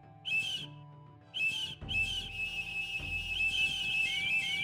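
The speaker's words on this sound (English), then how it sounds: "Someone's going to get really annoyed by your whistling, dude." Whistling by a character in the video game IVAN, heard as a few bright, wavering whistled phrases over a quiet game background with a low hum and intermittent soft thuds.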